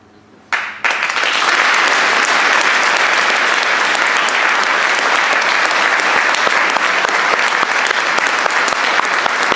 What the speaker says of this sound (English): one more round of applause for the men and women at this very special detail.